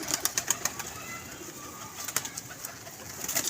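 A pigeon coos in a series of close, rhythmic calls, pausing midway before the cooing resumes near the end.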